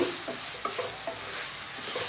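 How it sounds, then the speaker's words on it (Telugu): Raw prawns sizzle in a pan as they are stirred, with a steady hiss of frying broken by scraping and clacking stir strokes at close range, without any talk. "పచ్చిరొయ్యలు వేసుకుని బాగా కలుపుతూ"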